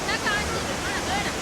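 A waterfall in Sri Lanka where people bathe pours down in a loud, steady roar of rushing water with faint voices mixed into the spray.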